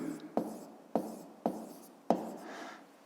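A pen writes out a fifth-grade math solution on paper, four sharp taps each followed by a short scratching stroke, close and quiet.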